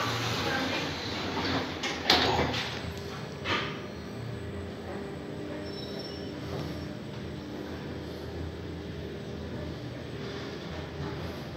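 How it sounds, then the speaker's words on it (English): Glass Schindler lift doors at London Heathrow Airport Terminal 5 sliding shut, with a couple of soft thuds early on before a steady hum of the terminal and lift machinery. "Doors closing."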